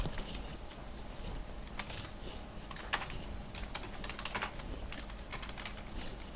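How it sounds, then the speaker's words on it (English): Rapid typing on a computer keyboard during an online racing league broadcast, a steady patter of close, quiet key clicks with a few louder taps, continuing without a break. "Sorry for the typing"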